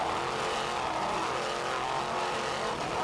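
Loud, continuous roar of two 800-horsepower Mercury inboard engines on an offshore racing powerboat, a dense, rough drone that holds steady throughout at high speed.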